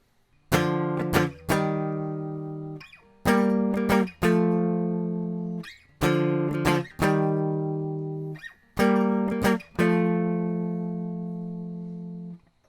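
Strummed electric guitar chords ring out in a repeating pattern, each chord struck once or twice and left to sustain before the next change.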